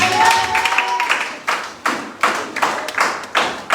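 A church congregation clapping in rhythmic bursts, loud and roomy, with a few voices rising at the start before the applause settles into a steady beat.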